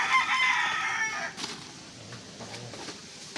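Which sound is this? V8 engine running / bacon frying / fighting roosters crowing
fighting roosters crowing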